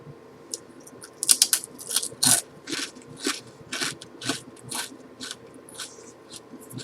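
Someone eats a crunchy snack right at the microphone, giving about a dozen sharp, irregular crunches and bites over several seconds against a quiet background, with no talking.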